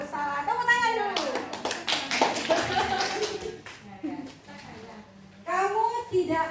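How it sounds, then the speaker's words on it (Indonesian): Classroom clapping at a teacher's prompt, a short burst of hand claps in the middle, with children's voices and talk before and after. "Tepuk tangan dulu."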